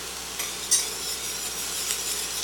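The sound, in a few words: whisking cornmeal into a pot until thickened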